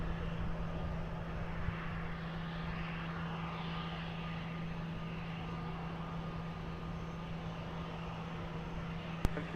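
An airplane climbing out from runway 20 at Lisbon Airport gives a steady, broad engine roar with a low constant hum, sustained at moderate distance and ending in a brief sharp click.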